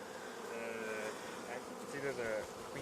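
Honey bees buzz in a dense, steady drone as nurse bees are shaken off a hive frame, close and moderately loud with a faint voice in the background.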